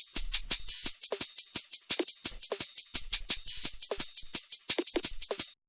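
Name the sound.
drum and bass hi-hats and percussion group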